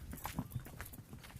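Horse hooves clip-clopping on a trail up a volcano island toward the crater lake, a quick, soft run of muffled steps heard close but faint, with faint background noise.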